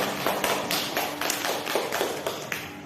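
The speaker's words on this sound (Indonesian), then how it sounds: "kita beri aplaus untuk kelompok 1" Children in a grade 5 classroom clap for a group in a quick, regular rhythmic pattern of crisp bursts, fairly loud and close, with no talking over it.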